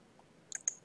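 Computer mouse right-clicks on a desktop, two or three sharp close clicks in quick succession after a quiet pause, with no talk.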